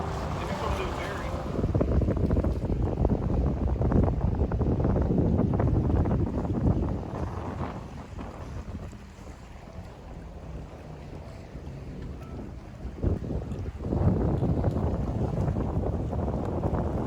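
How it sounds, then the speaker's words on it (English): A paddle boat cruising on the Gulf off Biloxi, Mississippi, with a continuous engine churn and wash of water mixed with gusting wind buffeting the microphone. "it really is a nice day for a paddle boat cruise on the Gulf"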